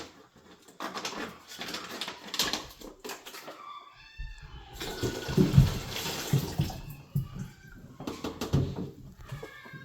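Water rinses out a bag, with splashing and pouring in irregular bursts, close by and fairly quiet, broken by short pauses.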